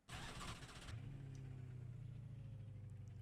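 A Ford Mustang supercar engine in the iRacing sim blares in a sharp, loud rev, then drops to a steady, droning idle, heard close with no talking.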